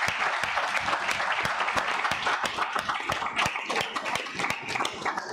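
Audience at a French conference applauding, continuous crisp clapping from many hands, steady and moderately loud throughout without pause.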